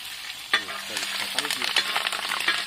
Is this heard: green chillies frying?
yes